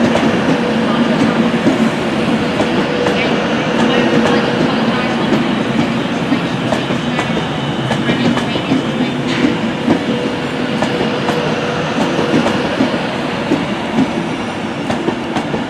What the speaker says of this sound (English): Here comes a Virgin Pendolino service terminating from London Euston